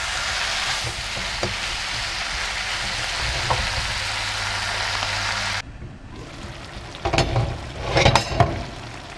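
Crab curry with tomatoes, onions and spices simmering on low heat in a pan, a steady close sizzle and bubble that cuts off abruptly, then a few louder stirring scrapes and clinks.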